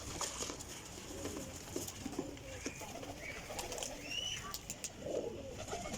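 A golden teddy pigeon coos in low, repeated throaty bursts, joined by a few brief higher chirps from other birds amid light background rustle.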